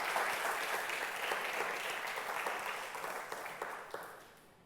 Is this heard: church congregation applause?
yes